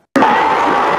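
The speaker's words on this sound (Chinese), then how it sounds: "看到进球，全场爆出欢呼。" A stadium crowd at a World Cup match in Qatar, Mexico versus Saudi Arabia, bursts into a loud, sustained roar of cheering after a goal, starting abruptly and holding steady to the end.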